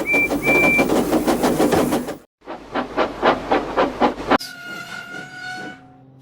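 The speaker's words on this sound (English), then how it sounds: "until he heard a very familiar whistle" Rhythmic steam train chuffing in two bursts, then a long tonal steam whistle sounds near and loud at the end, alone without voices.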